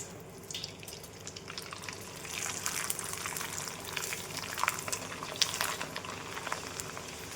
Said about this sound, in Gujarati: હવે તેમાં આપણે પાપડને તળી લેશું.